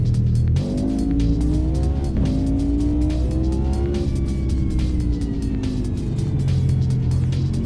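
Mercedes GT1 race car in Automobilista 2 at Donington Park, its engine droning loud and steady as revs rise and fall through gear changes, with tire squeal and other cars nearby.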